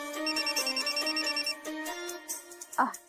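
An electronic phone ringtone plays its repeating melody at home, then fades as a brief bump or movement sounds near the end.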